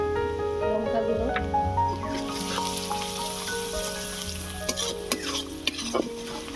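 Onion and garlic with salt, turmeric and chilli powder frying in a pan, a steady close sizzle with spoon stirring scrapes throughout, no talking.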